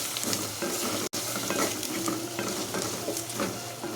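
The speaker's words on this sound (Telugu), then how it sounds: "ఇప్పుడు ఇందులోకి మిక్సీ పట్టుకున్న పాలకూరను వేసుకోవాలి. పాలకూర వేసుకొని ఇది ఒకసారి కలుపుకోవాలి." Blended spinach being stirred into fried onions in a pan, with continuous sizzling, a few soft scrapes of the spoon and light clinks against the metal, and no voices.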